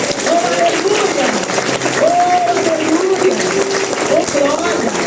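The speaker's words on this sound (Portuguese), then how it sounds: "aplauda o Senhor Jesus" A church congregation applauds, a dense, continuous wash of clapping from a crowd, while a loud voice calls out over it from start to finish.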